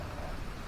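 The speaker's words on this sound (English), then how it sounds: "just gonna relax for listen to the rain and the thunder" Rain and thunder at a thunderstorm campsite blend into a soft, steady wash of noise, faint and distant, with a low rumble underneath and no voices.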